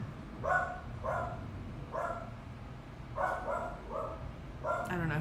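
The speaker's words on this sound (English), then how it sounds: "I don't know who she's barking at." Indoors, the dog Maple barks in short sharp bursts of two or three yips, moderately close over a low background hum, with a brief clatter at the end.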